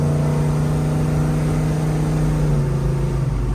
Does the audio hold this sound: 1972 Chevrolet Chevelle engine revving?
yes